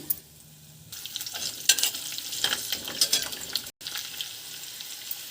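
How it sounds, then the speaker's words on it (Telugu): Fenugreek, coriander and cumin seeds roast in a pan, giving a soft sizzle with scraping stirs and rattling seeds that come in irregular bursts, close and fairly loud. "కొద్దిగా మెంతులు, ధనియాలు, జీలకర్ర వేసి వేపుకోవాలి"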